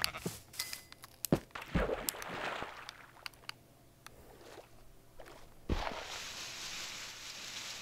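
Sheep bleating in the Minecraft video game, a few short game bleats scattered among clicks, footsteps and other in-game noises, fairly quiet throughout.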